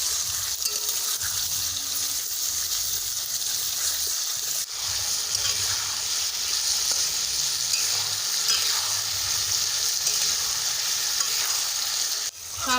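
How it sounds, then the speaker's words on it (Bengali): Chopped tomatoes fry in a pan with carrots, peas, cabbage and potato, a continuous loud sizzle with occasional stirring scrapes, no voices. "বন্ধুরা এবার সব কিছুর সাথে টমেটোগুলো ভালো মতো ভেজে নেব"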